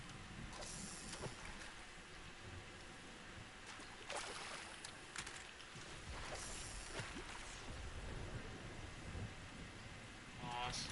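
Rain falls steadily in a video game thunderstorm, with several rumbles and sharp crackles of thunder rising over the wash.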